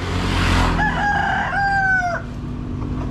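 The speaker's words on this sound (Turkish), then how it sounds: "Burada da tavuk horoz satıyorlar." A rooster at a chicken market in Bali, where birds are sold in cages, crows once, loud and close, in a drawn-out call of about a second and a half over steady background noise.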